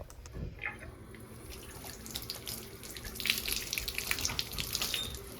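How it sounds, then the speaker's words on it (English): Tap water runs steadily as a sponge and leftover Pink Stuff cleaning paste are rinsed off a dirty bathtub, a quiet continuous splashing stream with small drips and swishes. "she just rinsed off that sponge, and now she's just rinsing off that excess cleaner"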